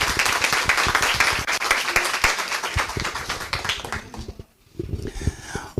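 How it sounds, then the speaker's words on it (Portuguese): An audience at a rare-disease health platform launch event claps in a dense, lively burst of applause that tapers and briefly fades near the end before a few scattered claps resume. "Uma salva de palmas para a nossa mesa mais uma vez."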